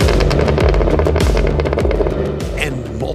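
A loud Cadillac Escalade V engine roars up close while the exhaust crackles and pops in rapid bursts, with a voice talking over the noise.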